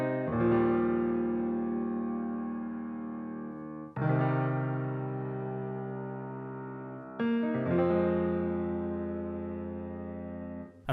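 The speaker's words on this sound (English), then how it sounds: "I used just a dark piano from Keyscape" A dark Keyscape piano plays three slow, emotional sustained chords, each struck softly and left to ring and fade before the next one enters.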